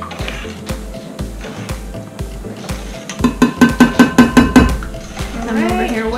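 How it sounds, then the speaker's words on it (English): Carrot cake batter whisked by hand in a bowl, a quick run of about ten rhythmic clinking strokes against the side, preceded by scattered softer kitchen knocks and clatter. "I'm over here whipping hard"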